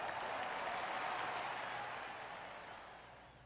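A crowd applauds steadily in a golf video game (PGA TOUR 2K21), a dense wash of clapping that gradually fades toward the end.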